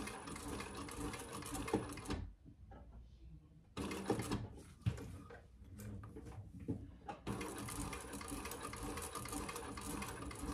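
A Thor sewing machine stitches wax canvas in two long steady runs, broken by a pause of faint handling noise, loud and close throughout.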